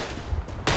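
A single close rifle shot cracks out loud and sharp in the Verdun World War I shooter game, following a stretch of ambient battlefield noise.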